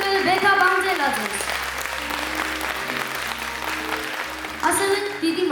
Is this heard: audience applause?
yes